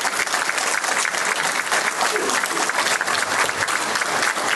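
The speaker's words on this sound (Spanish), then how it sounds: "me gustaría un aplauso para ellos porque realmente se lo merecen" Loud, sustained audience applause at the Latin Tyre Expo, a thick continuous roar of many hands clapping close by with a faint crowd murmur beneath.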